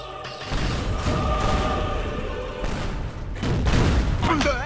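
Holy grenade explosions in the sandbox game Teardown, a dense run of heavy booms and crashing debris rumbling loudly and continuously, with a fresh blast surge near the end.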